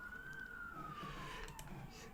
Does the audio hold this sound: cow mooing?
no